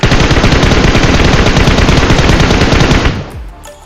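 Sustained, loud automatic gunfire from the PUBG Mobile battle royale game, a dense rapid burst during a last-zone fight in Yasnaya, running continuously for about three seconds before cutting off into a fading tail.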